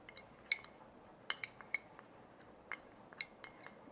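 A spoon clinks sharply against a bowl while coconut oil is mixed into natural hair dye powder, with scattered metallic taps in an uneven rhythm, close and fairly quiet, no talking.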